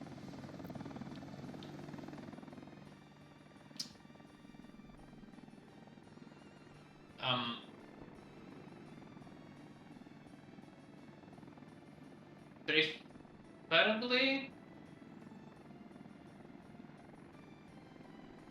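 Helicopter rotor droning steadily in the background of the city-building game Workers & Resources: Soviet Republic, a low continuous hum that fades slightly, with someone talking briefly in a few short bursts.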